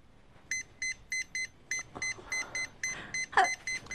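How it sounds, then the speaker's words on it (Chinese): A phone keypad beeps as a number is dialed, a quick series of about a dozen short, evenly pitched tones with rustling and faint handling noise between them. "你在这按电话号码呢。"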